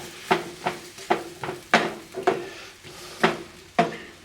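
Garlic, turmeric and thyme stirred in a pan with a utensil, giving a regular series of about nine crisp scraping clacks over a light sizzle, close and distinct with no talk.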